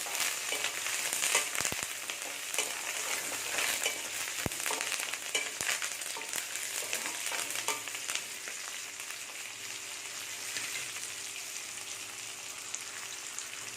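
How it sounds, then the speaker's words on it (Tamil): Curry leaves sauté in hot oil for an aubergine and chickpea curry, a continuous close crackling sizzle with scattered stirring scrapes and a few sharp ticks, no voices. "அதையும் சேர்த்து நல்லா வதக்கிடலாம்."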